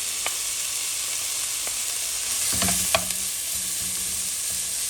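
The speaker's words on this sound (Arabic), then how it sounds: "رايح نضيفو البصل نديروه تقله" Onions frying in leftover oil in a pan, a steady close sizzle with a few brief clinks and stirring scrapes, no voices.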